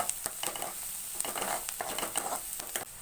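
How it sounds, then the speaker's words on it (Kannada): A spatula scrapes and stirs egg bhurji in a frying pan, with repeated soft scraping strokes over a steady background sizzle, moderately close. "ಇವಾಗ ಎಲ್ಲವೂ ಕೂಡ ಚೆನ್ನಾಗಿ ಮಿಕ್ಸ್ ಮಾಡ್ಕೋತಾ ಇದ್ದೀನಿ"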